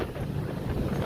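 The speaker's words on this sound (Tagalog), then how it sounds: "grabe, lakas ng hangin." Strong wind blows across a bridge in Binondo and buffets the microphone with a steady, loud, low roaring rumble. No voices are heard.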